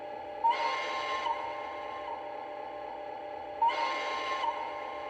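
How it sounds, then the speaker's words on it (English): Two short whistle-like horn blasts with an echo effect from an LGB 27402 RhB Crocodile 6/6-1 model locomotive, each under a second with a faint trailing echo, separated by a few seconds over a steady low hiss. "And this is the horn with an echo."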